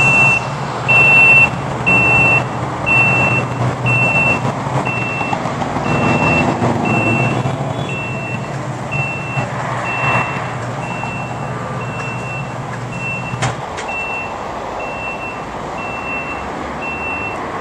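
A Bil-Jax ESP19 vertical personnel lift drives with a low electric motor hum and repeating reversing beeps at a steady rhythm. The beeps carry on after the drive noise drops away near the end.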